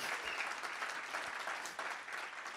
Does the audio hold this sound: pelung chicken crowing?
no